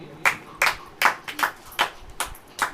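A church congregation claps hands in a steady rhythm, about seven sharp claps spaced roughly evenly, close and distinct against a quiet background.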